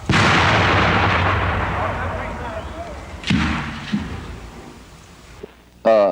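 Gunfire on command at an outdoor firing event, loud blasts and rumble dominating the opening, then a few sharper isolated reports spaced across the following seconds, with a brief voice near the end.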